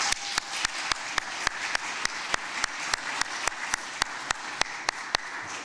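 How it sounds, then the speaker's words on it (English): An anniversary celebration audience gives a round of applause. Regular sharp claps, likely from a single clapper close to the microphone, sound over a continuous wash of clapping from the wider crowd. "Please give them a round of applause."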